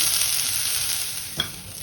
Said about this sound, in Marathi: एखाद मिनिटच अगदी परतून घ्यायचंय